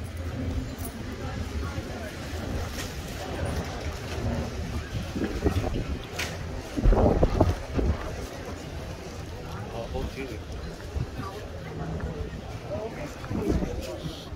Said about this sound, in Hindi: हाँ हवा बहुत तेज़ चल रही है यहाँ पर